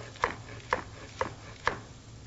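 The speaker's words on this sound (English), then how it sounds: "I'm going to cut up this green onion here" A knife chops green onion on a board in four evenly spaced, crisp thuds, close and fairly quiet over a low background hum.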